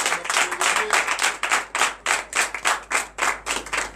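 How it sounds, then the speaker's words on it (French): A church congregation claps in steady rhythmic unison, loud, fairly close and even-paced, with no speech over it. "Donnez de vives acclamations."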